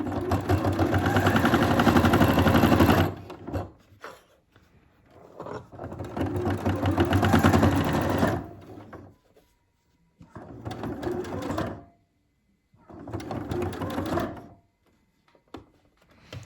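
Sewing machine at a stitch length of 3 stitching a small quilt-as-you-go keychain, running in four close, loud bursts of rapid stitching separated by short pauses.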